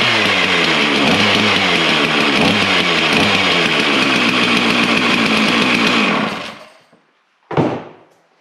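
A Stihl MS 391 chainsaw engine runs loud and steady for about six seconds, then cuts out, followed by one sharp knock.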